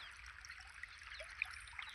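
Irrigation water trickles and flows steadily into a maize field in the early morning, a continuous soft watery stream with a few brief splashy bursts.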